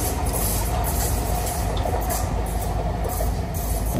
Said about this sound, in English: The only train that still carries the original MRT livery color design from